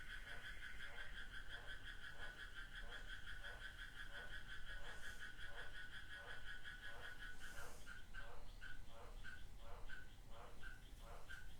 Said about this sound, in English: as we receive the rhythm of the frogs, they compete to make it even more rich